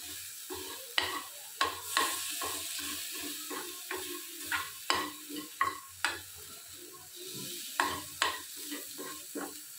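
Onion, potato and capsicum fry in a pan, a steady sizzle broken by repeated scraping, clattering strokes of stirring at irregular intervals, close and moderately loud, without speech.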